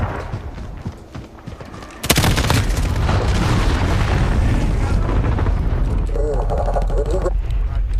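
A cruise missile explodes in Call of Duty Modern Warfare with a sudden, loud boom, followed by sustained rumbling blast noise and gunfire, with voices speaking over the scene.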